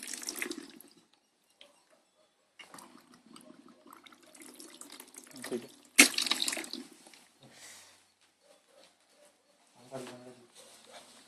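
Water splashes from an automatic, motor-driven water tap in short, faint, intermittent bursts, with quiet gaps and some soft background sounds.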